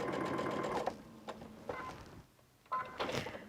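A sewing machine stitches a seam on a Barber Shop Quartet quilt block, running in several short bursts of close, steady whirring separated by brief pauses.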